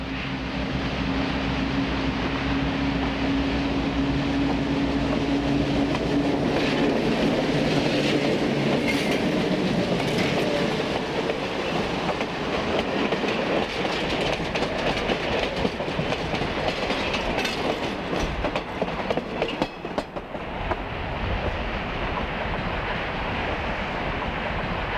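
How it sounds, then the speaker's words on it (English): B&O northbound Cincy passenger train passing under two Warren truss bridges near JN Tower in Ohio, a steady loud rumble of rolling cars with faint clickety-clack, continuous and close for the whole stretch. "The northbound Cincy, approaching JN Tower, passes under 2 Warren Truss bridges."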